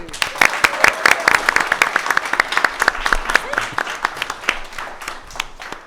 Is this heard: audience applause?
yes